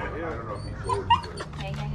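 A dog gives a few short yips and whimpers at a garage sale, close by and brief, mixed in with people talking.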